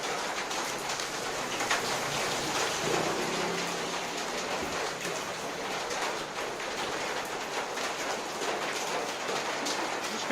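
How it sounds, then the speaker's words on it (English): Heavy rain pours down at night during a stormy night in Taiwan, a dense continuous hiss of drops on surfaces with a faint low rumble underneath. "Wow, you can really see that rain come down."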